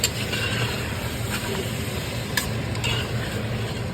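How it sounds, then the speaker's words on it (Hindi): Mutton biryani masala fries in oil, a continuous loud sizzle with occasional stirring clinks and scrapes throughout. "इसको हम भून लेंगे अच्छी तरह से"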